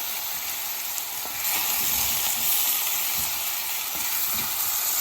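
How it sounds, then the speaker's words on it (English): Potatoes for an Indian dry potato dish sizzle and crackle steadily in a hot pan, a continuous close frying hiss with occasional soft clinks of stirring. "See how it's all frying nicely at the bottom."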